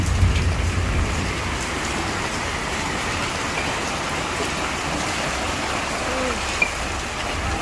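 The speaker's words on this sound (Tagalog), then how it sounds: "Malakas pa rin ang ulan." Heavy typhoon rain pours steadily at night in Iloilo, Philippines, a dense, even hiss of drops drumming on surfaces with no break throughout.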